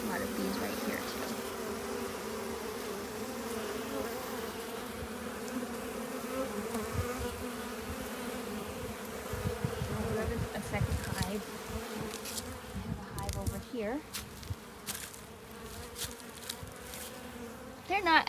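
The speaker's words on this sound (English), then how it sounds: "A lot of bees right here too." Dense, steady buzzing of honeybees swarming around the entrance of a second backyard hive, loud and close throughout, with someone speaking briefly over the hum.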